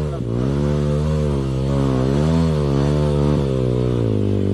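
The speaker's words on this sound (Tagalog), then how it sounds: "Lakas yung motor na yan, kaya pala Mani." A Mimamoto motorcycle engine revs hard and close, its pitch rising and falling in repeated surges, loud and continuous throughout.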